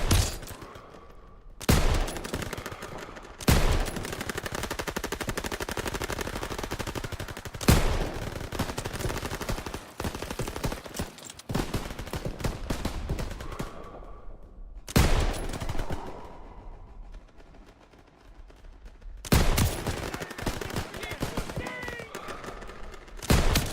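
Machine guns fire in the video game Call of Duty WW2, rattling bursts repeating over more than twenty seconds. Sharp volleys stand out over a continuous, fairly subdued din of battle.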